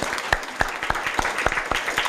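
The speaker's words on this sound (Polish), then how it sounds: "Oklaski się należy" Brief, moderate applause from attendees at a town council session, a light patter of clapping with a few distinct louder claps standing out, fairly close.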